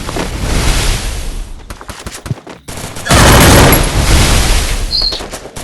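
Enemy gunfire rings out in a shooter video game, dense bursts of rapid shots in loud clusters, with a sustained heavy barrage in the second half and the player's voice talking between volleys.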